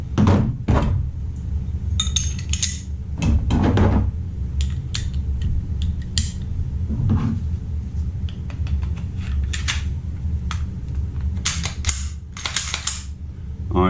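A Canik TP9DA pistol is put back together, with scattered sharp metallic clicks and clacks of the slide and parts fitting into place, irregular and close, separated by quiet pauses.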